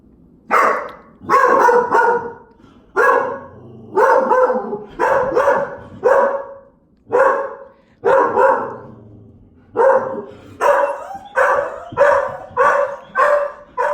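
A dog at a home on a reservation barks at something seen outside, a loud, close series of sharp barks in quick bursts and short pauses that continues throughout with no talking.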